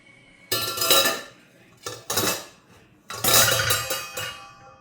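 Dishes and cutlery clatter in three short bursts of clinking and scraping as pongal is plated, close by, with quiet pauses between.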